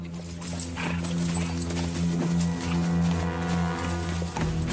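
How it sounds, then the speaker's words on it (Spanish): Horse hooves clip-clop steadily at close range over a constant low drone, the rider arriving from Duas Dives to report on a brother's army in Charlemagne's Carolingian empire. "¡Mi caballo!"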